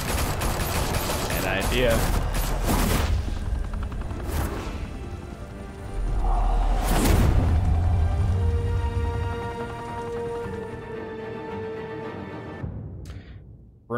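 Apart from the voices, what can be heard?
gunfire in Batman The Telltale Series video game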